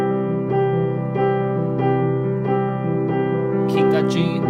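Piano with sustained left-hand chords under right-hand notes on G, struck one at a time in a slow, even rhythm, closing with a short bright flourish near the end.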